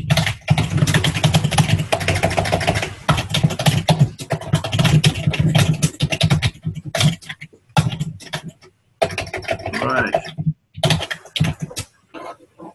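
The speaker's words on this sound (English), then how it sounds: "I was trying to figure out who was doing the typing." Rapid clattering computer keyboard typing, close and loud, in dense bursts with short pauses toward the end.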